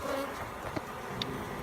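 Honey bees buzz around hive frames during a requeening, a soft steady hum close by with a couple of brief sharper passes as bees fly near.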